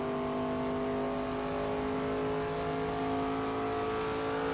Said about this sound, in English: My engine RPMs sound like I have a dying cylinder in this thing right now